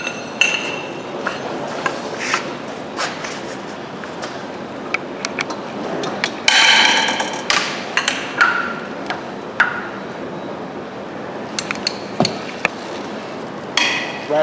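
A Williams 3/8-inch ratchet, extended with a pipe for leverage, gives close sharp clicks and metallic knocks in irregular bursts, with a brief louder clatter partway through and no speech.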